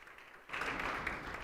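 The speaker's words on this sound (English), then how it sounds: "Can we get a round of applause for all of our different supporters?" Audience applause at a health reform forum, a steady broad wash of clapping that rises abruptly after a brief quiet start and holds for about a second.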